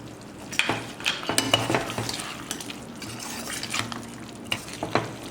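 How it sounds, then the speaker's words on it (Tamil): Pepper powder is stirred into mutton gravy in an open pan, giving soft scraping and clinking strokes of a spoon against the pan over a faint, quiet bubbling simmer. "இப்போ நான் ஃபைனல் டச்சாக எடுத்து வச்சுருக்கேன் இந்த மிளகுத்தூளை போடுறேன்."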